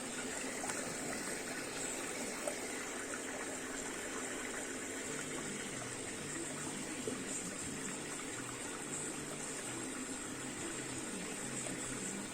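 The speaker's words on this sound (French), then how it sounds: "La pompe marche très bien" A Brandt Stato 422 Super stove's liquid pump runs steadily at low level, a soft continuous watery gush and trickle with a faint hum, no voices present.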